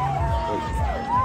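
Enthusiastic crowd cheering at an outdoor Labour Party political rally in Birnin Kebbi, a steady roar of voices with whoops and shouts rising and falling close by.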